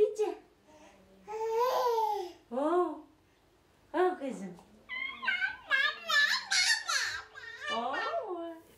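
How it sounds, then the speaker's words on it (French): An infant babbles and squeals with joy while playing with its mother in the Kyrgyz Republic, a run of bright, sing-song vocal bursts close to the listener, broken by short pauses. "puis babille lorsque sa mère lui répond avec des mots."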